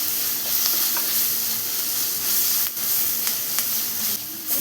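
Chopped tomato and ivy gourd sauté in a pan for kovakka curry, with a close, steady sizzle broken by repeated spatula stirs and scrapes.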